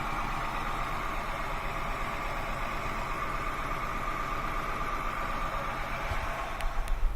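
A Honda Accord engine with a misfire idles at close range, a steady rough mechanical drone with uneven low puffs from the exhaust that grow more pronounced near the end.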